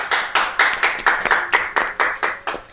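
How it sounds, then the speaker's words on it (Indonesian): A small group clapping for three people in a spiritual guessing show, roughly ten loud, evenly spaced claps in a rhythmic unison beat, close and clear with no speech. "tepuk tangan dulu buat mereka bertiga."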